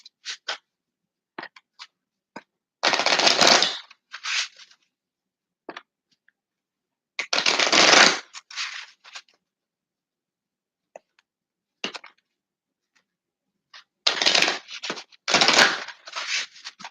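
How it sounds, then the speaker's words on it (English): A deck of playing cards being shuffled by hand, bursts of riffling and flicking in three main runs separated by quiet pauses, with scattered single card snaps, close and clear. "I don't know if I shuffled these or not."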